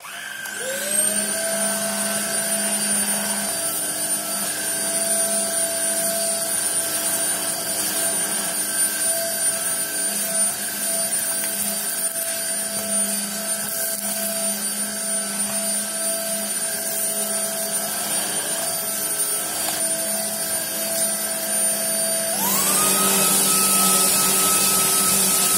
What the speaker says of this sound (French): Donc j'ai dû mettre le mode turbo pour qu'il aspire vraiment